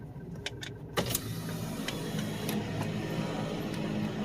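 A Mitsubishi Strada's electric power window motor hums steadily up close as the window lowers inside the cab, with a few faint clicks just before it starts.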